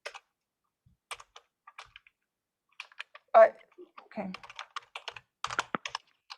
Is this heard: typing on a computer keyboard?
yes